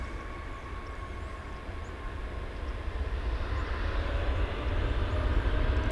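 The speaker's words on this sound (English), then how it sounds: "here goes the Dreamliner rocketing off to Cancun" A Boeing Dreamliner jet taking off from DFW International Airport in fog, heard as a steady, distant engine roar that slowly swells louder over the clip, with no voices.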